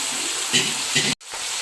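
Leftover cooking water pours steadily into a cooking pot with a splashing, sizzling hiss before stopping abruptly, then the hiss resumes.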